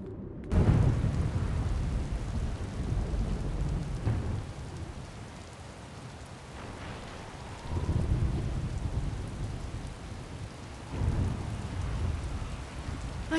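Steady heavy rain falls in a video game storm, with several deep rumbles of thunder swelling and fading over it, loud and continuous with no voices.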